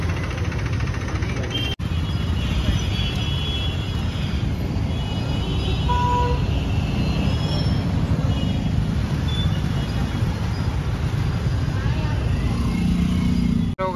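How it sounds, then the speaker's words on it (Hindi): A jammed road crowded with cars, buses and people gives off a steady, dense rumble of idling engines and traffic noise, with a voice talking over it throughout. "काफ़ी भीड़ में लोग फंसे हुए हैं, एकदम रास्ता जाम हो गया"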